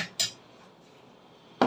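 A spoon clinks twice against a bowl while curd mixed with other ingredients is stirred, two sharp metallic knocks at the start and end with quiet between them and no voice.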